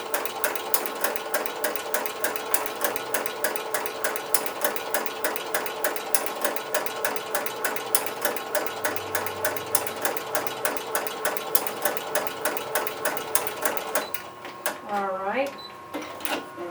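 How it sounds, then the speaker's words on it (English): A sewing machine fitted with a ruffler foot stitches rapidly and evenly, its close mechanical rattle joined by a regular clack as the pleater kicks in a pleat every six stitches, then slows and stops near the end. "every 6 stitches the pleater will kick in a pleat"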